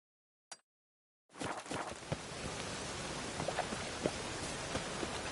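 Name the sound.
rain in video game The Witcher 3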